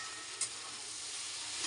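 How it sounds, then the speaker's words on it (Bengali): Chow mein with potatoes fries in a pan, a soft continuous sizzle heard alone with one brief clink of a utensil. "ভালো করে ভাজতে হবে তাকে।"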